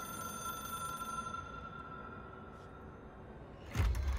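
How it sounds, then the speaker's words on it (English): The red phone in the video game Control rings with a sustained electronic tone over a low ambient rumble, then ends with a sudden thump. "It is a phone."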